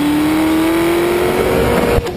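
A Chevrolet Corvette ZR1 accelerates hard under launch control, its engine note climbing steadily in pitch as it pulls through a gear, loud and close, then a sharp shift cut near the end.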